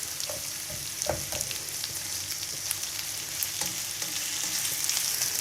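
Kachnar keema chicken sautéing in a pan over a medium flame, a steady close sizzle and fry with occasional stirring clicks and scrapes throughout.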